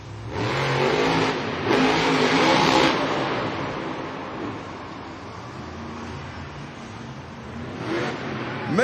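A monster truck engine revs hard at a Monster Jam stadium event in Indianapolis, a loud roaring surge that eases off and then climbs again near the end, with faint crowd and announcer voices underneath.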